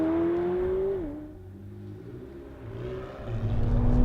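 A McLaren 720S supercar engine drones loudly, dips in pitch and volume as it shifts, then builds again with rising revs.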